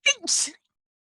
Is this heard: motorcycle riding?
no